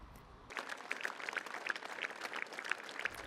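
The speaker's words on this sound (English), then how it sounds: "Applause from pupils as the cortege passed by a local high school." High-school pupils outdoors clapping as a funeral cortege passes their school; scattered, distant applause begins after a short pause and continues faintly and unevenly.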